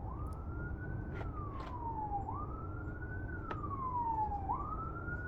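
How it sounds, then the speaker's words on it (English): An ambulance siren wails in slow rising and falling sweeps, heard alone at moderate distance over steady low traffic rumble, with a few faint clicks on top. "An ambulance."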